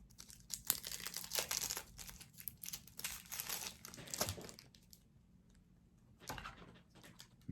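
Plastic wrap being peeled off a deck of iridescent playing cards printed in Belgium, producing close crinkling and tearing rustles in irregular bursts that fade to quieter handling near the end.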